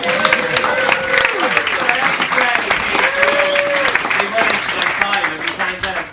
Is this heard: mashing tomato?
no